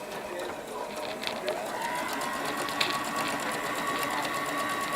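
A Brother GS3710 sewing machine running stitch 29 while mending a garment patch, a steady fast mechanical whir and rattle with faint rhythmic ticking, continuous and close throughout.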